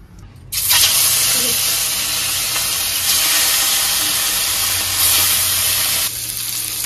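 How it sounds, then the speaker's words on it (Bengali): Rui fish fries in hot oil in a wok, a loud dense sizzle bursting in after a quiet start and roaring steadily before easing slightly near the end. "রুই পোস্ত করবো বলে মাছটা একটু হালকা ভেজে নিলাম"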